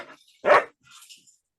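A dog gives one sharp, close bark, followed by a few faint, scattered rustling sounds in an otherwise quiet room.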